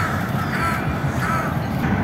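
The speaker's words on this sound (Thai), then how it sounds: "มุมนี้ก็อีกา" A flock of crows cawing near a park with a butterfly and insect garden, a dense, steady layer of overlapping calls blended into a noisy outdoor background.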